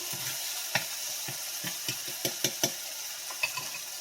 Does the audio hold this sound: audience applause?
no